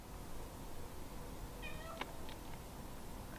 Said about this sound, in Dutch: Maar er zit een poes.